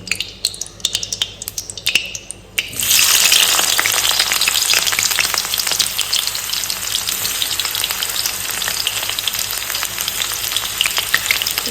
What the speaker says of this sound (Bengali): তো এখন তেল গরম হয়ে যাচ্ছে, এখন আমি পেঁয়াজ ছেড়ে দেবো।